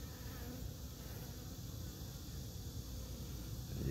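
Honeybees drone in a dense, continuous buzz from an open hive during a queen check, close and steady, with no speech.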